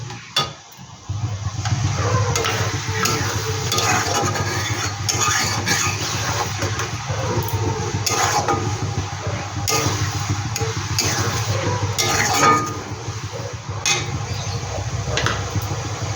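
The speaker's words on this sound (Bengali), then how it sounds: "এবার পেঁয়াজটা একটু ভালো করে আমি ভেজে নেব।" Oil sizzles steadily as onions fry, broken by intermittent scraping strokes of a spatula stirring the pan, nearby and moderately loud.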